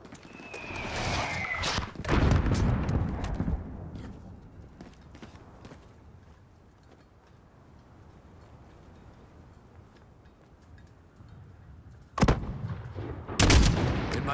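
Sniper rifle shots in the Modern Warfare game during a mission against a mortar team: a loud crack near the start and two more near the end, separated by a long stretch of quiet ambient rumble.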